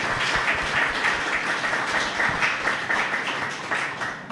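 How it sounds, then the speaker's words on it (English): A panel discussion audience claps steadily throughout, a dense, loud and continuous round of applause before questions open, with no one speaking over it. "a round of applause for our panel before our questions"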